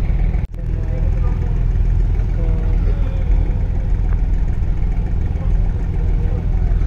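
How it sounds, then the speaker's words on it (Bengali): Steady low engine drone of the Adventure 9 passenger launch moving on the river toward the pontoon at dawn, a continuous rumble with a brief dropout near the start and no talk over it. "এই যে পল্টনের দিকে যাচ্ছে কিন্তু অ্যাডভেঞ্চার 9 লঞ্চটি"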